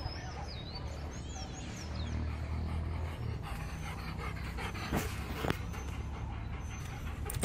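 A dog pants rapidly and steadily at close range, with outdoor background noise and faint bird chirps in the distance.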